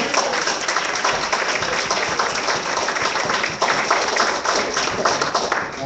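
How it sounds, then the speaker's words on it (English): A church congregation claps their hands in steady, sustained applause, a dense and even patter from many people that lasts throughout. "Let's give the Lord a hand clap."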